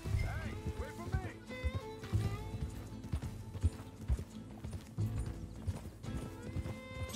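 Horse hooves clip-clop at a steady riding gait in a Wild West video game, rhythmic and fairly close, mixed with tack rattle and occasional voices talking over them.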